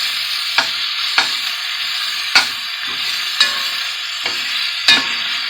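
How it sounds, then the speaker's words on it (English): Beef sears in a pot for a stovetop stew, giving a bright, hissing sizzle punctuated by about six clear clanks of a spoon against the pot at roughly one-second intervals. "But I want this meat to sear real good."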